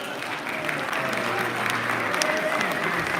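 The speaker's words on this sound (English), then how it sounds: "let's give ourselves a round of applause" The audience at a Poetry Out Loud recital applauds, a sustained crowd of many hands clapping evenly across the room, with scattered voices and a few cheers mixed in.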